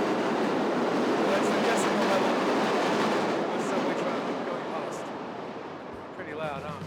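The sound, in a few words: New York City subway train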